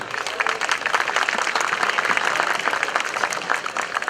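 A hall audience at an iftar gathering in Sakarya claps in dense, sustained applause to welcome a speaker to the podium, loud and continuous for the whole stretch.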